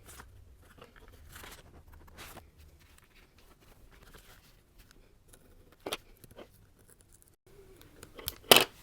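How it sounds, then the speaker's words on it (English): Scissors cut through planner paper in a few scattered snips, mostly faint, ending in one louder, crisp cut close by, over near silence. "you can always cut it from the other direction"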